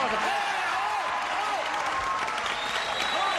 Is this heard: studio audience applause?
yes